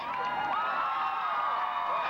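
A dense football crowd at a Panthers game roars and cheers continuously, a broad wall of voices with whoops rising above it, loud and sustained throughout.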